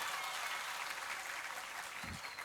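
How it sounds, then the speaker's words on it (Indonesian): Faint, steady applause from an audience at a formal gathering, continuous clapping heard at a distance with no talk over it. "Tepuk tangan dulu."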